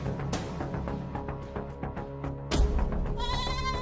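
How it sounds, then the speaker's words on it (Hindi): Several bleats from a small goat repeat over busy background noise, loud and close. "बकरी को शोर आ रहा है"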